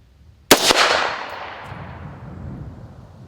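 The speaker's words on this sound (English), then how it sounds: "2 shots." A sharp, loud rifle crack on a 3-gun rifle zero range, with a second report right behind it and a long echo tailing away. No talking.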